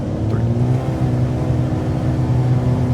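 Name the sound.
Cirrus aircraft engine at full takeoff throttle in flight simulator video game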